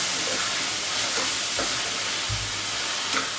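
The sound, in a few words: onion frying in pan for dhaba-style chicken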